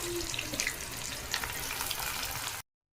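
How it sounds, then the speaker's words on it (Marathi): Onion browning in a pan for a non-veg pulao biryani gives a steady, close, dense sizzle with light stirring scrapes throughout, until it cuts off abruptly. "कांदा ब्राऊन करून घेत आहोत"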